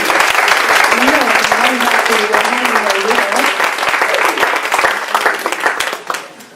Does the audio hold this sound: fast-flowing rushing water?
no